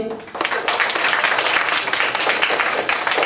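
Sustained applause for ninth-grade girl students at a school performance event, dense steady clapping from a large audience filling the room after a brief quieter start.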